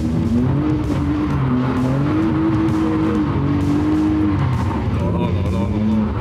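BMW M3 E36 drifting with wheelspin across a field: a loud, close engine drone holds throughout, its pitch rising and falling as the revs swing.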